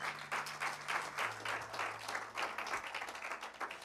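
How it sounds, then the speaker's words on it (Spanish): A congregation claps rhythmically in unison during a church service, a steady beat of hand claps over a low sustained tone, moderately distant and fairly quiet. "Dele otro aplauso al Señor."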